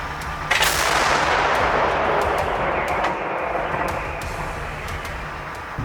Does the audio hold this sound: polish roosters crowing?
no